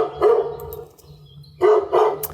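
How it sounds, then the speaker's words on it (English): Dogs barking in a forest, several loud nearby barks in two clusters with a quieter gap between, over a low steady drone from a plane in the background. "Just listen to the dogs"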